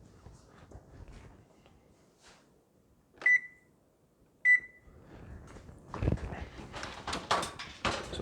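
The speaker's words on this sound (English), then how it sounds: "We're going to preheat the oven to 350." A kitchen oven control beeps twice as it is set to preheat to 350 degrees, two short clear tones a little over a second apart, followed by soft kitchen handling noises and clatter.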